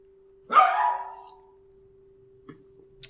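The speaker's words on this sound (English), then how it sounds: "now the dog's growling" Pet dog in a home where someone is playing Minecraft gives one loud, close bark-like yelp, trailing off over about a second, followed by a couple of faint soft thumps.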